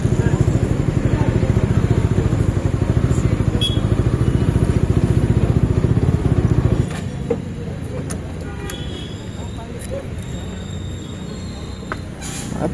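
A motorcycle engine idles with a steady low rumble while being parked on a Kathmandu street, then cuts off, leaving quieter street ambience with faint distant traffic and occasional clicks.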